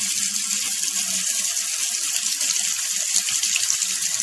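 Water runs steadily from a kitchen sink tap, a strong continuous hiss and gush that stays loud and even throughout with no voices.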